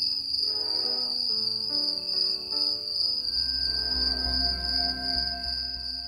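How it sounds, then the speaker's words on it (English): Steady, loud chorus of crickets chirping at dusk on a summer evening, a continuous high-pitched trill with deeper tones beneath and a low rumble swelling in later on. "evening would take over with the sound of crickets"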